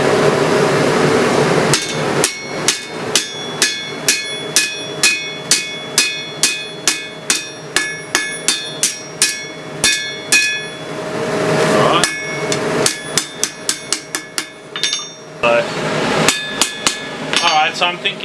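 Hammer blows ring on an anvil as a red-hot steel kitchen knife blank is forged, a long run of sharp, evenly spaced metallic strikes with brief pauses between bursts, loud and close with no talking.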